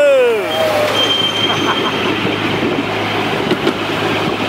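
A miniature railway train runs near Tondu signal box at Park Slip, its wheels squealing loudly at the start, then a continuous close rumble and rattle of running carriages, with voices heard over it.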